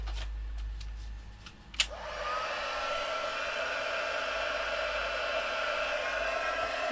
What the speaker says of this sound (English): Let me grab my heat gun.